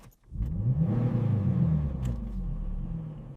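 Restored 1939 Fiat Topolino driving along in the countryside, its small engine giving a steady, close, low rumble that holds for a few seconds after a brief dip at the start.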